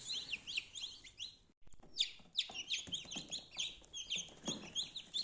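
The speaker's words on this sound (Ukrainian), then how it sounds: "Наші перші курчатки, які ми забрали з інкубатора" Newly hatched chicks taken from an incubator cheep in rapid, high, overlapping peeps, a near and busy chorus with a brief pause before the chirping resumes, no one talking.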